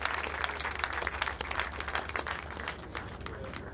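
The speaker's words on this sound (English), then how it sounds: "Please let's welcome with a round of applause Mr. Olumide Emirates." Sustained applause from a crowd at a graduation ceremony, steady dense clapping throughout with a low background hum, fairly distant and even in level.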